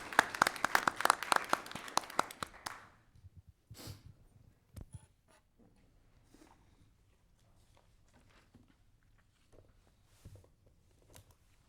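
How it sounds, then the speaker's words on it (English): Applause from the audience at a county commission meeting bursts out loudly for under three seconds, then fades quickly into a quiet room with scattered shuffles and small knocks. "so we need to give them a round of applause."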